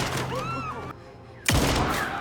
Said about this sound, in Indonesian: mengosongkan senjatanya dengan menembakkan pistol tersebut ke arah orang-orang di bawah